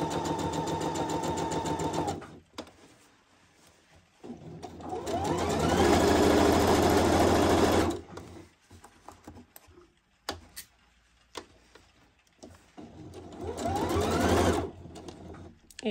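A domestic sewing machine stitches a pocket in fabric, running in three loud sustained bursts with quiet pauses between, the middle run longest, ending in short back-and-forth stitches to lock the seam.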